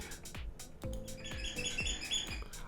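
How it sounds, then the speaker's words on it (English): Birdsong in a park, bright chirps and tweets repeating over a soft outdoor background, several calls overlapping across a short stretch, with a few low thumps underneath. "Birds chirping park."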